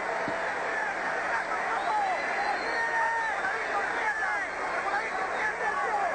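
Boxing crowd at a Whitaker–Ramirez fight roaring as the boxer escapes the corner late in the bout, a continuous dense crowd noise under a commentator's voice.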